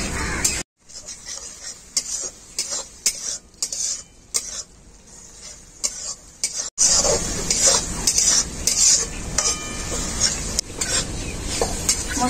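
Tomato, onion and ground spice paste being sautéed in a pan for a spicy tangra fish dish, with a spoon scraping and knocking against the pan over a soft sizzle, louder and more continuous in the second half.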